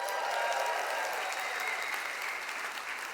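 Audience at a Great Place to Work For All summit bursting into applause and cheering: a dense, steady wash of clapping from a large crowd that fills the room throughout.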